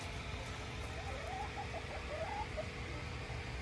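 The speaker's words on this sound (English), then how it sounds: "You might hear right now the sound of chickens." Soft, faint clucking from a few of eight chickens somewhere in the distance on a farm, set against a steady background hum.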